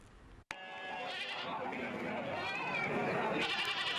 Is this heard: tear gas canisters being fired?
no